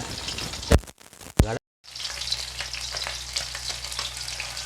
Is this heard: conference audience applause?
no